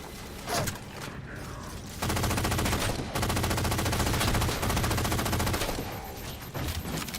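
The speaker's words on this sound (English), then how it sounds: "Not sure if there's any other saw reload across the game" Loud metallic clacks and ratcheting of a SAW machine gun being reloaded in Halo 4, with dense mechanical clatter and a sustained rumbling layer running through most of the stretch.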